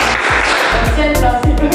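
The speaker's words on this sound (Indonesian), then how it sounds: "Tepuk konsentrasi." Classroom group doing a rhythmic concentration clap, a few sharp claps in a patterned beat with voices chanting along.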